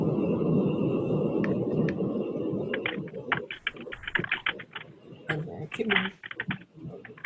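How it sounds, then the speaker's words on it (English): A low muffled murmur fades out, followed by scattered quick clicks of typing on a computer keyboard, close and irregular. "I'm hearing some typing."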